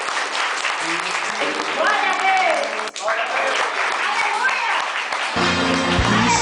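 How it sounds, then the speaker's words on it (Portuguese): Congregation applauding during a church worship service, a broad wash of clapping under a voice that speaks and sings, with music entering toward the end. "E vamos aplaudir o Senhor."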